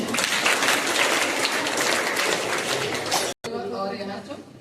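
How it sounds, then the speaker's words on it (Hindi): A school youth parliament audience gives loud applause for the judges, dense clapping filling the hall for over three seconds before a brief cut and a voice speaking over lingering noise. "तो हमारे जजेस के लिए भी जोरदार ताली हो जाए।"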